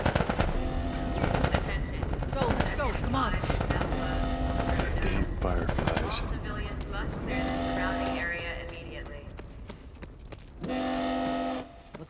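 Gunfire in The Last of Us prologue, rapid automatic bursts mixed with blaring alarms and chaotic background noise, while voices shout over the shooting.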